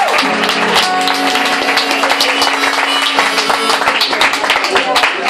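Audience clapping for piano and accordion at a live band show at a kiosk venue in Villa Verrucchio, loud and steady throughout with sustained tones and some voices under it.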